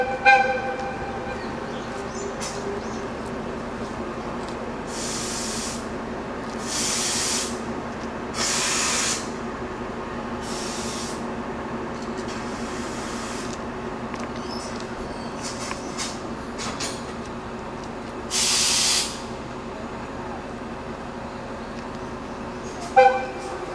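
A rack railway locomotive on a Japanese mountain line starts to move with a steady low rumble, broken by several loud, hissing bursts of released air.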